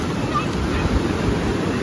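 Steady broadband roar of ocean surf with wind buffeting the microphone, continuous and fairly loud throughout.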